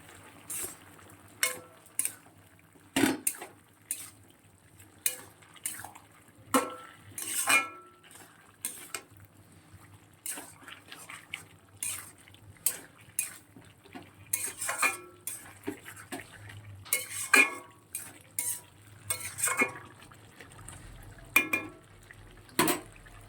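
Pumpkin poppy-seed curry stirred in a pan near the end of cooking, repeated scraping and clinking of a utensil against the metal pan in an irregular rhythm over a faint quiet simmer.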